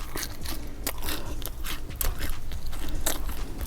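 Loud, close chewing of a sandwich, with wet crunches and biting sounds coming one after another in an irregular rhythm, heard alone without any talk.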